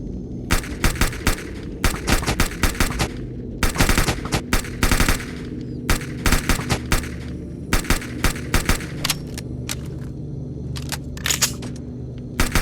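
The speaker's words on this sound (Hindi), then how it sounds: "तो मैं फटाफट अपनी AK-47 बाहर निकाल लेता हूँ। वहीं रॉन अपनी गन निकाल लेता है" Rapid bursts of AK-47 gunfire against zombies in Minecraft, sharp repeated cracks in short strings with brief gaps, loud and close over a low background hum.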